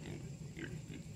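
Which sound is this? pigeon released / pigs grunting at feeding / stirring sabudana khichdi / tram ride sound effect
pigs grunting at feeding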